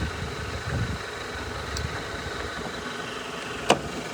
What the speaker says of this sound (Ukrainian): автомобіль запущений, ну, паркінг іде, все, але як рівненько і гарненько працює